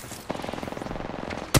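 Rapid automatic gunfire in Apex Legends, a fast even burst of shots rattling for over a second, closing with a louder sharp blast.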